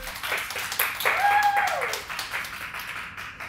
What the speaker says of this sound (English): Can I just get a clap for this dress?